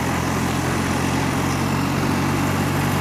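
An old motorbike engine runs with a steady, dense drone and low rumble while the bike rides along a damp country road with leaves on it, continuous and loud with no break.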